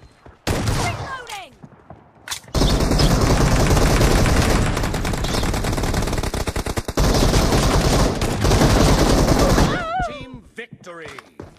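Sustained, loud gunfire from a BGMI team deathmatch in a shotgun-only match, dense and continuous for several seconds after a short opening burst, then trailing off into quieter sounds with faint voices at the edges.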